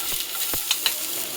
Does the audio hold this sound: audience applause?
no